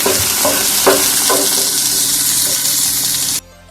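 Onion and green chili sauté in a pan, a loud continuous sizzle with a few knocks of stirring, up close, cutting off abruptly at the end.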